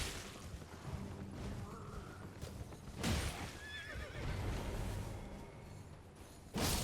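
Horse neighing and whinnying in the Elden Ring video game, several loud whinnies with hoof clip-clops amid busy game effects, ending in a sharp burst.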